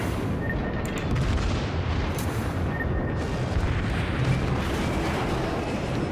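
Battleship secondary guns fire in World of Warships, a continuous rumbling barrage of booms and thuds layered over dense low battle noise, steady and loud throughout.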